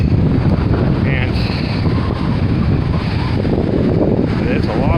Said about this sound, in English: there's a lot of big waves out here today. Look at those. The wind has really picked up